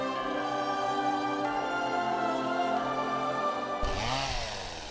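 A chainsaw runs steadily at a constant whining pitch, fairly close, then revs up sharply near the end with a sweeping rise and fall in tone.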